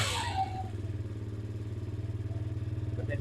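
A Kawasaki KFX50 ATV engine idles steadily at close range, with a low, even putter that pulses in a fast regular rhythm after a brief louder clatter at the start.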